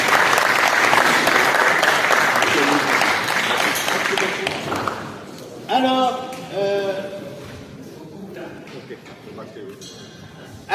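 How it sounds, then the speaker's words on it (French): An audience in Kinshasa applauds a welcomed guest with loud, sustained clapping that fades after about five seconds, then gives way to a voice speaking and faint lingering claps. "Nous allons l'applaudir à l'infini"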